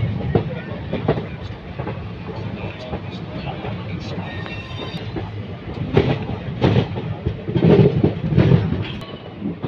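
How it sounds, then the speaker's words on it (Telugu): A MEMU train rolls into a station platform with rhythmic clattering of wheels over rail joints, growing louder near the end, while people talk nearby. "ఇప్పుడే మెమో ట్రైన్ అయితే ప్లాట్ఫామ్లోకి తెప్పిస్తున్నాడు"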